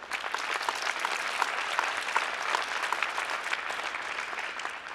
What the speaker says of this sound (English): let's give Sue and Maria a big round of applause